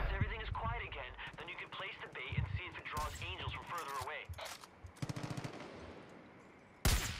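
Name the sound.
gunfire blasting the player in video game Far Cry 5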